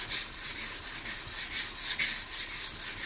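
A ZDP-189 steel knife blade stroked against a whetstone, a close, steady gritty rasp repeated in quick, even back-and-forth passes with no voices.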